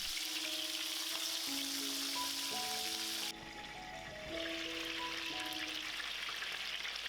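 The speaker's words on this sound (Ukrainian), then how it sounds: "Беремо нашу мариновану курочку і починаємо обсмажувати" Marinated chicken sizzling in a hot pan over high heat, a constant crackling hiss with some quiet background music, briefly softening midway before resuming.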